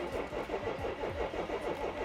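A BMW E46 engine cranks slowly and labours to start, with a steady rhythmic chugging of the starter and engine close by, filling the short stretch without any talk.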